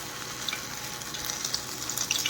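Battered cauliflower pieces fry in hot oil in a frying pan for honey chilli cauliflower, a steady, dense crackling sizzle that holds evenly throughout with no voices.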